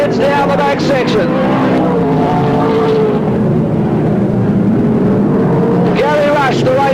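Sprintcar race cars roaring around a speedway track in the 1983/1984 season, with a sustained loud engine drone that swells near the start and end as cars pass, under a race commentator's voice.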